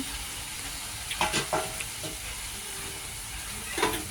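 Fried soybean chunks and potato tipped into a hot pan for a soybean kosha, with a steady sizzle and a few louder clatters of stirring that come and go.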